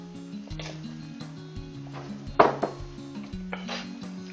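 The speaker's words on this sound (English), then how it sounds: "Let's stir it around." Leftover soup with potato is stirred in a cooking pot, giving scraping and knocking of a utensil against the pot in irregular bursts, with one sharper clunk midway, fairly close and quiet, with no talking.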